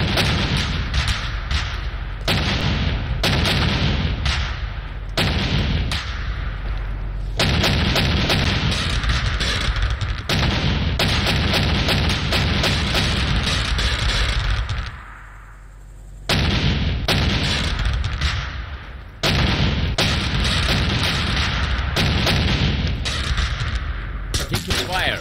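Sustained battlefield gunfire and artillery booms in the military shooter game Arma 2, dense and loud with a brief lull around the middle before the barrage resumes.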